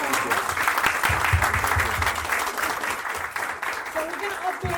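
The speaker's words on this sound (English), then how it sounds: "Please give a big applause." Steady audience applause after a speaker at a community event honoring Somali mothers, dense continuous clapping from a seated crowd filling the whole stretch at an even, fairly loud level.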